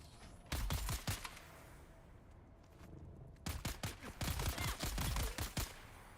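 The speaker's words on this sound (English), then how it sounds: "Shoot these guys in the face." Two loud volleys of rapid gunfire in Dune: Awakening, a fast burst of close shots, a short lull, then a longer stretch of sustained firing, with no voices.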